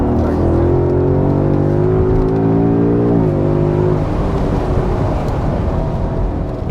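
A 2022 Ford Mustang GT California Special V8 engine held in third gear drones loud and close from inside the car, its pitch rising gently then dipping before settling into a rough, steady rumble.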